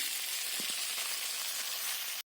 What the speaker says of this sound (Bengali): এই আলুগুলো আমি ভেজে নেব।